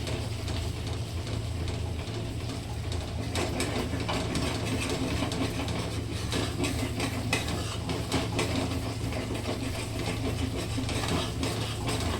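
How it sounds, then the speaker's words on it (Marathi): A kitchen mixer grinder runs continuously, grinding spice masala fine, its steady whirring drone close and unbroken with a faint rattling mechanical texture. "कुठलाही मसाला झाला तरी आपण छान बारीक मिक्सरला काढायला पाहिजे"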